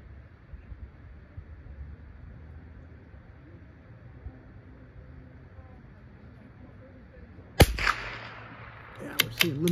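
An accurized .22 LR rifle fires a single sharp, close report near the end, followed by a couple of faint clicks, after a long stretch of quiet outdoor ambience.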